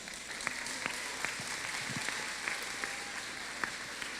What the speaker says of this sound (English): So I want to give her a round of applause.